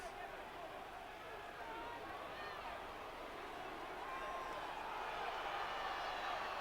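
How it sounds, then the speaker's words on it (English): Rugby crowd at a Leicester Tigers versus Cardiff Blues match in 2007, a broad sustained roar rising steadily as the Leicester pack drives toward the line, distant and dense, with commentary voices underneath. "The crowd willing them on."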